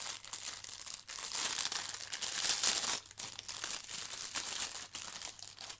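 A small paper packet from a diamond painting kit is opened and crinkled up close, with bursts of crackling and rustling broken by a couple of brief pauses.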